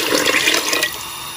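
About 1.5 liters of chicken broth poured into a soup pot, a steady splashing liquid rush that stops abruptly partway through, leaving a quieter room tone.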